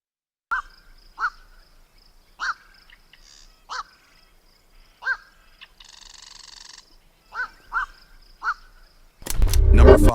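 A black-crowned night heron gives harsh, croaking single cries at irregular intervals, moderately close, with a buzzing rasp midway and a loud rumble at the end.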